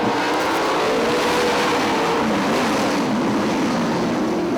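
Sprint race cars, 305 class, roar together as the field accelerates on the green flag at Fremont Speedway, a loud continuous engine drone with shifting revving tones and no talk.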